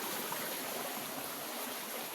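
Steady rush of the Laya River in Candulawan, Talisay City, Cebu, heard from the bank as a continuous broadband stream flow, even and unbroken with no voices.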